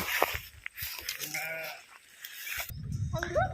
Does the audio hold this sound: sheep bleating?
yes